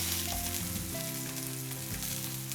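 Vegetable cutlets fry in a hot pan, a steady, close sizzle running evenly throughout without a break, with faint stirring or shifting noises underneath and no one speaking.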